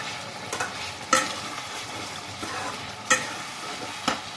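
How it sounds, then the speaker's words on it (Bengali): Long strips of ginger stirred into chicken frying in oil in a kadai, with a steady sizzle broken by a few sharp scrapes and clanks of the spoon against the pan, close and fairly loud. "এই সময় লম্বা লম্বা করে কেটে রাখা আদার টুকরো দিয়ে দেবো, দিয়ে একটু নাড়িয়ে নেব।"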